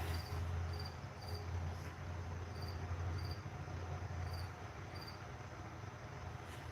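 Crickets chirp in short, evenly spaced bursts against a steady low hum of background noise, fairly faint and continuous with no voices.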